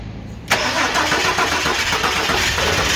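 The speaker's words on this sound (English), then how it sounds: "Cranking." A Ford XE Falcon fitted with an LPG system catches after a brief quiet crank, its engine bursting to life at about half a second and then running loud and steady at a rough idle.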